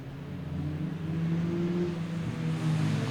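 An autograss race car pulls away at Kings Lynn, its engine a steady, loud droning rumble with rising harmonic tones as it accelerates, close by and alone for about three seconds.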